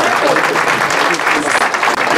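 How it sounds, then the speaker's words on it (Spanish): Audience applause at an award ceremony, a short, loud, continuous wash of clapping from a crowd, with speech mixed in. "Un aplauso, por favor."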